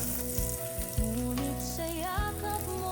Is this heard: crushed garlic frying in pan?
yes